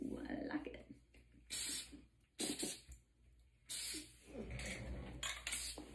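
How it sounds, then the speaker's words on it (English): Hairspray misted over freshly curled hair in several short, bright hissing bursts, separated by pauses, with someone talking quietly in between. "And then we'll do some hairspray. I always finish it off with some hairspray."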